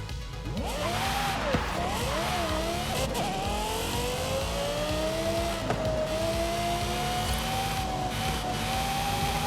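A Lexus LFA in Forza Horizon 5 revs hard with a high, rising and falling engine whine that settles into a steady sustained pitch, loud and continuous with faint tire noise.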